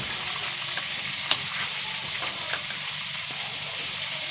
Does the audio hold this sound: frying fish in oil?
yes